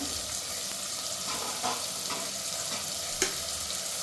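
Onion and ginger-garlic paste frying in hot oil, a steady close sizzle with a few soft stirring scrapes and no talk.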